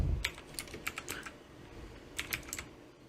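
Quiet keystrokes on a computer keyboard come in two short bursts, with a pause between them. The clicks are light and close up, with no talking.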